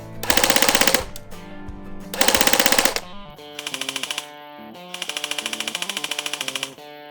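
A Snow Wolf AUG A2 airsoft rifle running on a 7.4-volt battery fires four rapid full-auto bursts, two longer and two shorter, each a fast, even mechanical rattle heard up close with no talking.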